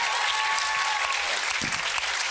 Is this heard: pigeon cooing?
no